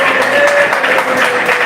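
A church congregation claps together in praise, a steady, dense wash of hand claps that holds evenly for under two seconds with a faint musical tone underneath.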